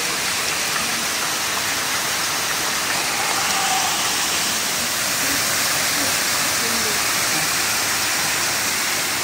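A waterfall on Madeira roars as a dense, constant broadband rush close by, steady throughout with no breaks, and a person speaks faintly under it.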